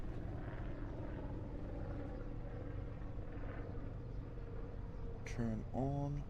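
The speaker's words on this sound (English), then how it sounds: "Oh, another helicopter." Helicopter passing overhead in the Farming Simulator 25 video game, a steady whirring engine drone that holds for several seconds, with someone talking briefly near the end.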